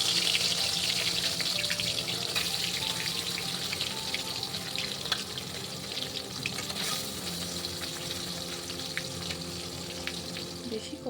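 Katla fish pieces fry lightly in hot oil in a karahi, giving a steady, close sizzle with soft crackles and occasional stirring or watery clatter throughout.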